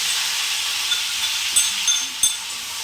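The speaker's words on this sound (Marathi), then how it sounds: "तर जिरं टाकूया त्याच्यात आणि हे वाटण आहे ना, हे असं टाकून घेणार आहे आपण." Cumin and a green chili, ginger and coriander paste sizzle steadily in hot oil for a potato vada filling, a continuous bright hiss with a few small pops and crackles, close and alone.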